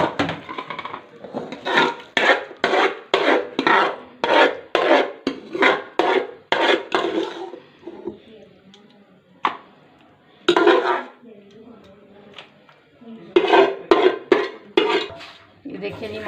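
A spoon scrapes pumpkin halwa out of a metal pan in rapid rhythmic strokes, loud and close, with pauses and quieter stretches between bursts of scraping.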